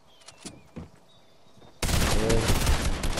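Burst-weapon gunfire in Fortnite erupts loud and sustained after a quieter start of faint scattered clicks and footsteps, a dense rattling volley filling the final second and a half.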